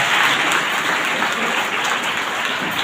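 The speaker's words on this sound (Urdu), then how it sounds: "تمام بچوں سے ریکویسٹ ہے کہ وہ پرزور تالیاں بجا کر ان کا استقبال" Dense, steady applause from many children fills the whole stretch at a school and college prize-distribution ceremony in Trarkhal, close and continuous with no pauses.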